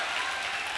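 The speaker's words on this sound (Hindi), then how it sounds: "जोरदार तालियां।" A crowd of students at a NEET toppers' event claps loudly and densely in a brief, steady burst.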